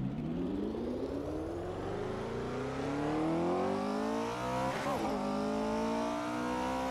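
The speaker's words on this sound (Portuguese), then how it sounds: "estamos pilotando o Porsche" A Porsche 908 LH race car in the Assetto Corsa video game revs up hard, its engine note climbing steadily through the gears with a brief shift blip midway, loud and continuous with no talk.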